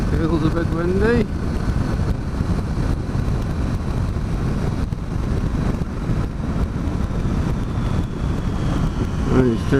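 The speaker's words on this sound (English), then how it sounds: "Feels a bit windy." Steady wind buffets the microphone throughout, a constant rumbling roar with a voice briefly audible at the start and end.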